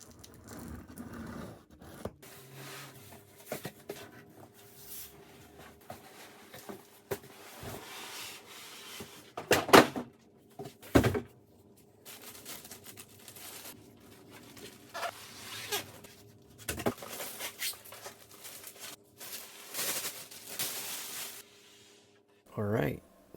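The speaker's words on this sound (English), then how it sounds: "so let's now open the box." Cardboard shipping box of a Tecware VXR PC case being opened, with close rubbing, scraping and tearing of cardboard and packing material in irregular bursts, a few sharper rips standing out, and talk at times.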